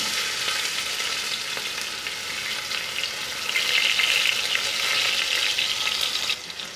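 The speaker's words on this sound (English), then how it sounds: "And let's fry the onion until it turns light brown in color." Chopped onion and curry leaves fry in a pan for mutton soup, a loud, steady hissing sizzle with faint scraping, close up and continuous throughout, no voices.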